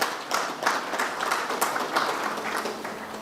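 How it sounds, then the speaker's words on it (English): An audience at an airline's annual general meeting claps in a moderate round of applause, individual claps standing out over a softer steady patter, fairly even from start to finish. "I think they deserve a round of applause for that."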